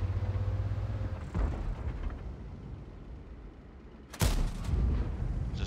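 Two heavy booms from a tank gun in World of Tanks, one early and one sharper, louder shot later, set against a steady engine rumble and battlefield background.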